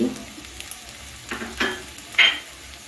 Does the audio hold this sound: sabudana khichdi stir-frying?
yes